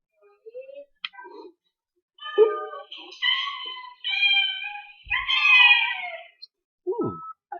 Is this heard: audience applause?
no